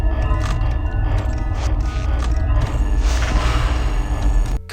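Later-night office ambience in the Five Nights at Freddy's 2 video game: a dense, continuous bed of low droning mechanical hum and rumble with scattered thumps and clanks, steady and loud throughout with no speech.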